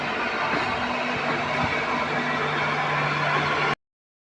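A train runs near Kamakhya station in Assam, giving a steady close rumble with a low humming tone that continues evenly and then cuts off abruptly.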